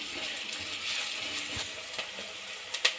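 Green chillies and onion frying in hot oil for pudina rice give a soft, continuous sizzle with a few light stirring clicks near the end.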